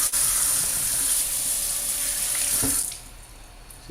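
Tap water runs steadily into a kitchen sink while raw pork neckbones are rinsed, a broad rushing splash that holds loud and close for almost three seconds before easing off; no one speaks.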